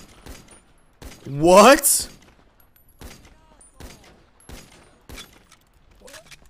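Bursts of gunfire in a video game set in Los Santos, with sharp repeated shots spaced across the moment and one louder rapid burst near the start, mixed with a streamer's brief exclamations.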